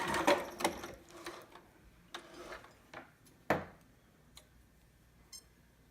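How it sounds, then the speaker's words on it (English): A sewing machine back stitching across the top of fabric, with quick mechanical ticking bursts that start and stop in short runs, fairly close and alone. "I'm going to back stitch at the top there"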